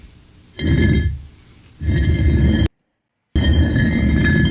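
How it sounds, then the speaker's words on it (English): Three bursts of a rough, scraping rumble, like a chair dragged across a floor, from a Roblox game, separated by short gaps with one moment of total silence. "just sounds like someone dragging their chair or something"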